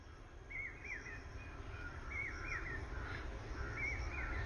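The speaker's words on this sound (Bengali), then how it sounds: "তোমরা পাখির ডাক শোনো।" Birds call beside a village pond on an overcast, drizzly day, giving faint, repeated short chirps and trills over a steady low background rumble.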